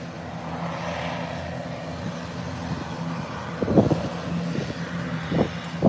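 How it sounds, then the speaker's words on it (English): A small ATR turboprop airliner at Howard Hamilton International Airport gives a steady, moderately loud broadband drone, with a few sharper bursts and swells rising over the hum toward the end. "It's a small ATR."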